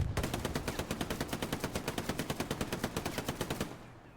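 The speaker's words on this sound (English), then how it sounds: "There's MG pre-firing." A machine gun in Hell Let Loose fires one long, steady automatic burst of evenly spaced, sharp shots for about three and a half seconds, then stops abruptly.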